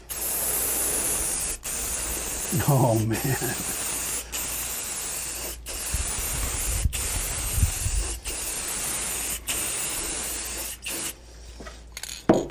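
Spray finish hissing onto a freehand carved spalted walnut sign in repeated bursts separated by short pauses, fairly close and loud, with a brief spoken remark partway through.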